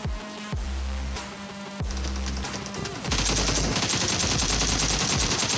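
Gunfire in PUBG Mobile on the Sanhok map: rapid automatic bursts and single loud shots, close and punchy, growing denser and heavier toward the end with no talking.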